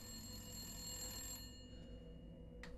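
Telephone ringing inside the video game Resident Evil Village: a bright, repeating electronic bell over a low game ambience hum, fading out partway through, with a short sharp click near the end.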